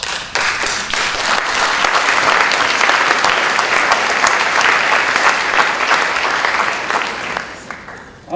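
A conference audience applauds at the Millennium Campus Conference, with dense, sustained clapping from a large crowd that holds steady and loud for about eight seconds before it tapers off.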